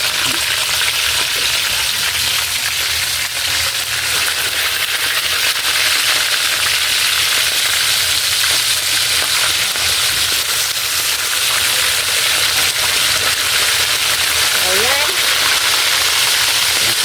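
Steady, dense sizzling and crackling of danggit fish frying in hot oil, continuous and close, with no clear talking.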